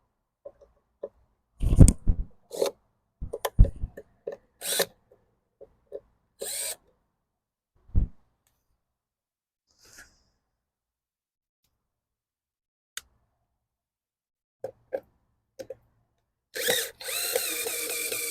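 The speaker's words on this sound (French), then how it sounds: "On va remettre la vis. On va même la visser un peu" A power drill driving a screw into wooden planks, heard as several short, sharp whirring bursts separated by silences, with a slightly longer run near the end.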